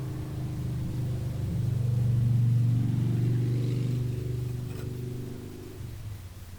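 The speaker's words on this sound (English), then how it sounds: "So what I'm going to do here is wind the engine over" A Land Rover Series 3 engine is wound over, giving a steady low mechanical rumble that swells slightly in the middle and holds on without speech.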